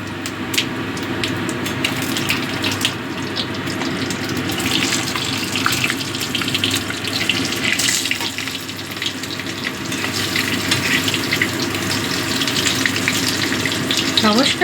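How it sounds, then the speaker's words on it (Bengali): Cut potatoes go into a frying pan for a koi fish and bean curry, setting off a loud, continuous hissing sizzle with crackling bursts throughout, no talking. "এবার দিয়ে দিচ্ছি কেটে রাখা আলুগুলো"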